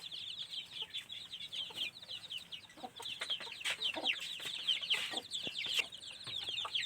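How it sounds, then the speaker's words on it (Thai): Chickens cluck and chatter continuously in a rice-field farmyard where ducks and pigs are also kept, a dense steady layer of overlapping fowl calls at moderate distance with no talking. "นี่แหละพี่น้องบรรยากาศเนาะก็เป็ดก็ไก่ก็หมู"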